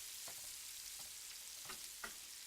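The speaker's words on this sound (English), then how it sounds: "What a great sizzle that is." Jumbo scallops sizzle steadily in a hot pan, a constant hiss with a few soft pops and crackles, close and alone.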